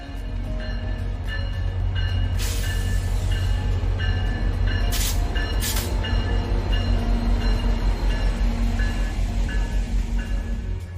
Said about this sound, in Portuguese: o trem de Jasper a Prince Rupert da Via está prestes a iniciar sua jornada de 2 dias por Alberta e British Columbia